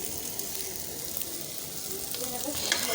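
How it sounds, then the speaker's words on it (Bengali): Thin slices of sweet pumpkin fry in a pan, giving a steady, close sizzle with a brief brighter crackle near the end. "মিষ্টি কুমড়াটা একদম সম্পূর্ণ ভাজা হয়ে গেছে"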